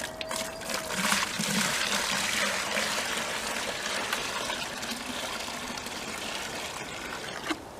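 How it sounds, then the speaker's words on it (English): Compost tea pouring from one bucket into another to water trees, a steady near splashing trickle of liquid lasting several seconds with no talk. "I'm going to put 1/2 of this bucket in each of the buckets to water the trees."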